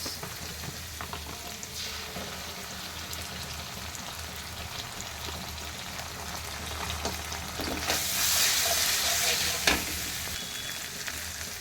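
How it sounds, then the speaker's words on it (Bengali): Onion-garlic paste with soy sauce and tomato sauce sautéing in a pan for restaurant-style chicken chow, a steady close sizzle with scraping stirs, swelling louder toward the end. "তার সঙ্গে একটু পেঁয়াজ রসুন বাটা ছিল সেটাও দিয়ে ভালোভাবে কষাতে থাকবো।"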